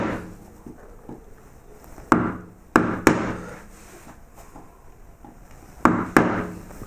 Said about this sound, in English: you could just go straight in with a chisel and put that centre line down here